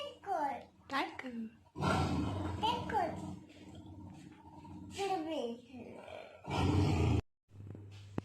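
A toddler makes animal noises with an adult nearby, including a breathy, growling imitation of a tiger roar, close and loud, amid child speech and short pauses.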